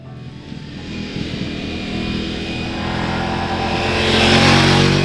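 A 2026 Ducati Multistrada V4 Rally motorcycle runs loud and close, its V4 engine note rising steadily as it accelerates over a few seconds, with no voices.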